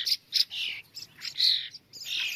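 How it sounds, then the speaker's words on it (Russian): A starling calls in a garden with chokeberry bushes, giving a run of bright, close chirps and squeaky whistled notes in uneven bursts, with no other sounds behind them. "А это вот скворец."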